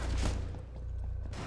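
Bursts of rapid gunfire in the tactical shooter game Rainbow Six Siege, loud and dense at first, then continuing as quieter scattered shots with no talk over them.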